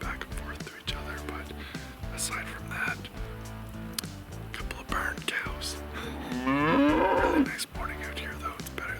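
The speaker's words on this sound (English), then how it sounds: "aside from that, a couple of barn cows." Barn cows low in the open countryside during a winter camping trip, one long drawn-out moo rising near the middle over steady background rumble, with a few fainter calls around it.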